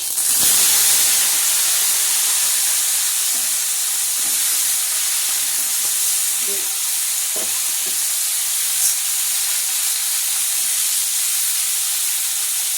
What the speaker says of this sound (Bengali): তেলটা গরম হয়ে গেছে, তা তেলের মধ্যে এই বেগুন, আলু, সিম আনাজটা দিয়ে দেবো